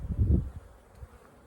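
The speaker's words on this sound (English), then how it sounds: "you can see I have bees coming and going quite rapidly" Honeybees buzz close by a hive with a low, fluttering hum that swells briefly then fades as they fly past.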